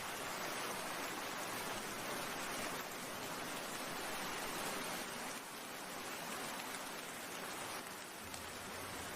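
Storm rain falls over an empty village market in a cartoon, a soft, steady hiss of downpour heard alone without any voices.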